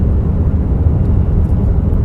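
Petrol engine of a Nissan X-Trail e-Power running as a generator, a steady low rumbling drone heard close and continuous with no talk.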